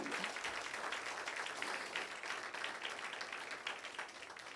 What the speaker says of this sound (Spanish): Denle un aplauso al nombre de Jesús